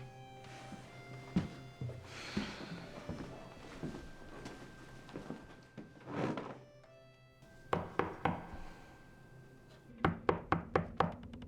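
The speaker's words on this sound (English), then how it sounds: "There's a knock at the door." Knocking on a door during a Christmas period film scene comes as a series of firm, close thuds: a short group of raps, a pause, then another rapid cluster of knocks, over faint room ambience and scattered thumps.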